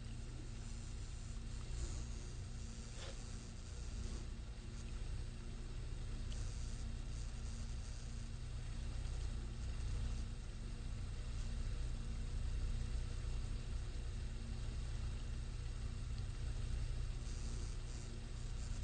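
A friction test rig's rotating cylinder, coated in motor lubricant and under applied torque, runs with a steady, loud mechanical rumble and drone that holds constant throughout, with no voices.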